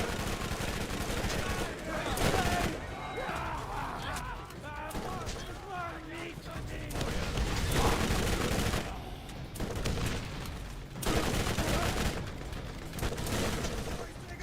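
A Stinger gun fires rapidly in a video game, with sustained bursts of loud gunfire repeating through the stretch over busy combat noise, with talk present.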